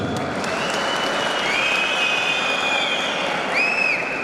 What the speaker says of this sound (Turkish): Onlar için bir alkış istiyorum.